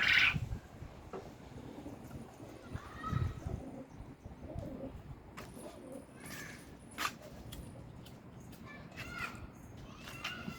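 Pigeons coo softly in a loft or yard while being trained to fly, low repeated coos and scattered calls heard faintly against background noise and movement.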